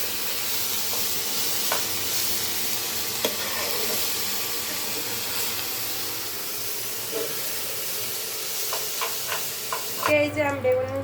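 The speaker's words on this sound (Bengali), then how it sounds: "একটু বেশি ভাজা ভাজা করে নেবো।" Eggplant and tomato vorta fries and is stirred in a pan, giving a steady close sizzle with occasional scraping strokes, and a brief change in tone near the end.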